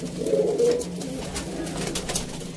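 Low, throaty pigeon cooing rises and falls over a steady background hum, with a few brief scratchy noises scattered through it.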